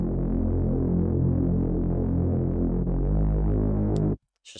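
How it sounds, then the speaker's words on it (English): A simple Reese bass synth in an electronic track, a thick, steady detuned low drone with slow throbbing movement, loud and continuous for about four seconds before cutting off abruptly into near silence. "It's just a simple Reese."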